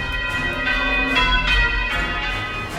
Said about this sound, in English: When I first saw people ringing, I was so inspired to learn how the bells worked.